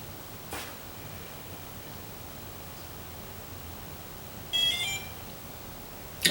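A smart door lock sounds a brief electronic beep tone once it connects after installation. The single short chirp rises out of a quiet, hissy room.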